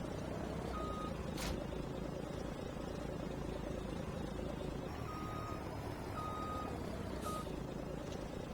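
A dump truck in Farming Simulator gives short, evenly spaced reversing beeps that come and go over a steady, loud engine drone.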